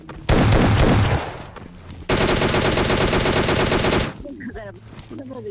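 Rapid bursts of S12K shotgun fire in the mobile game PUBG Mobile Lite, loud and close, running in two dense volleys before fading into quieter game sounds.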